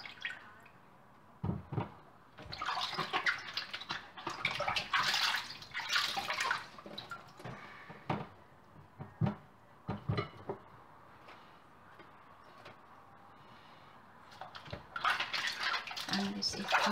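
Water splashes and trickles from a running tap in uneven bursts as vegetables are washed with vinegar and water, with occasional knocks and handling sounds close by.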